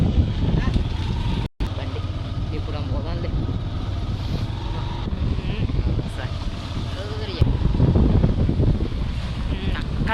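Rushing water at Bogatha waterfall roars as a constant broadband wash, with wind buffeting the microphone and voices talking over it close by.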